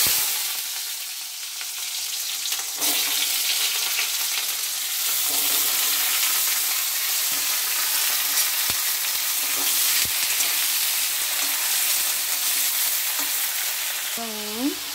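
Vegetables for pui shaak (Malabar spinach) fry in hot oil, giving a steady, close sizzle that runs throughout, with occasional stirring knocks and a brief voice near the end.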